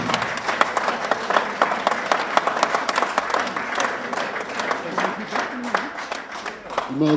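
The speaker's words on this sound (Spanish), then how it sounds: "Con ustedes un voto de aplauso al congresista Manuel Daniel Eguaguirre." An audience applauds a congressman at a political event in Peru, sharp clapping that stays fairly steady across the whole stretch, with crowd voices and some speech mixed underneath.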